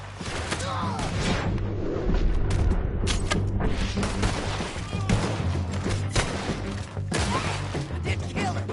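Heavy gunfire during a shootout in Red Dead Redemption 2, with continuous overlapping shots and booming impacts over a loud game soundtrack.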